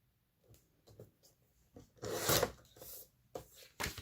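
Paper page being trimmed for a Trick or Treat scrapbook page kit, giving a few soft scraping cuts and one louder rasping slice, close up with no talk.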